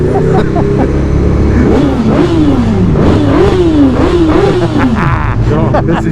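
Sports motorcycle on a superbike ride, engine revving and accelerating hard through repeated rising and falling pitch sweeps, loud and close amid wind and road noise, with voices talking over it.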